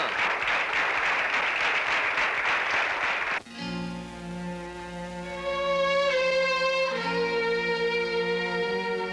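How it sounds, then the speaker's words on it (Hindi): Applause from a gathering in a Hindi film scene, a dense burst of clapping for about three seconds that cuts off abruptly, followed by sustained tonal music. "तालियां।"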